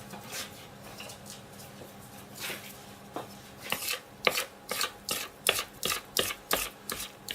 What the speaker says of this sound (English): I'm just going to get a spoon and scoop those down a bit